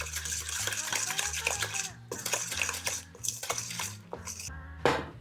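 A spoon scrapes and clinks against a bowl while a small Easter bread base of flour is stirred together, in irregular bursts of knocks and rattles with short pauses between them.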